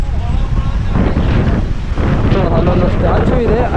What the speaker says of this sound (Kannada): ಗಾಳಿ ಮಾತ್ರ ಎಷ್ಟು ಇದೆ ಅಂದರೆ ಗಾಳಿ.